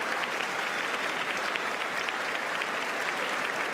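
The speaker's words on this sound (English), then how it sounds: "Big applause there for First Lady Dr. Jill Biden." Sustained, dense applause fills the House chamber at the 2024 State of the Union as First Lady Jill Biden enters, a steady roar of many hands with no break throughout.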